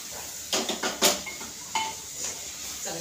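A metal spoon scrapes and knocks against a cooking pot while vegetables such as carrot, potato and peas are stirred with spices for veg pulao, giving a few close, sharp clinks and scrapes with short pauses between them.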